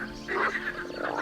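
A frog croaks in a single short, raspy call lasting about a second, close and fairly loud with nothing else around it.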